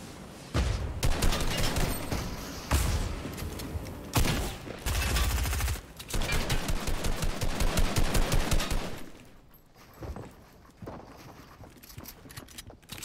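Rapid bursts of automatic gunfire from the video game Fortnite ring out loud and close, with short pauses between volleys over about nine seconds before tapering to sparse, quieter shots.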